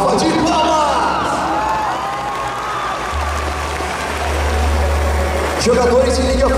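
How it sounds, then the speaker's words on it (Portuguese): A crowd at a Hanamachi 2018 cosplay parade claps, cheers and whoops for a League of Legends Soraka Star Guardian cosplayer, sustained applause with voices rising over it. "Salva de palmas!"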